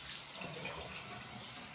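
Cold tap water running into a sink while someone washes their face, a soft, steady, fairly quiet splashing flow without talk.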